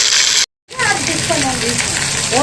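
Onions and garlic frying in oil for a neem flower curry, a continuous close sizzle with a short silent gap near the start, and a voice talking over it.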